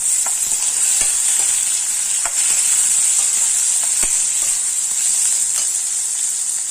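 Garlic and tomato sauté in a hot pan with a steady, bright sizzling hiss, broken by occasional sharp taps and scrapes of a stirring spoon.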